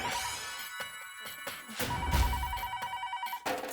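A telephone bell rings in a sitcom household scene, a steady repeating electronic trill in quick pulses, with thuds and a voice-like murmur underneath.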